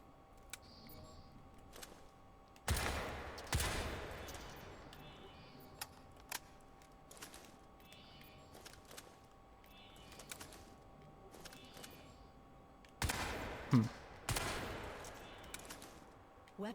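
Rapid gunfire bursts in Crysis 3 on PlayStation 3, with two heavy clusters of loud shots and scattered single cracks between quieter stretches, under faint background sounds.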